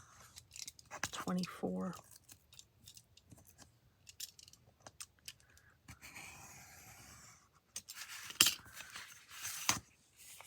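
Snipping of scissors cutting through paper, a series of crisp close cuts with rustling between them, while a person speaks softly at the start.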